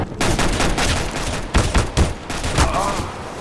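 Rapid pistol fire from a P250 in CS:GO deathmatch, loud repeated sharp shots in quick bursts that fill the whole stretch, with no talking over them.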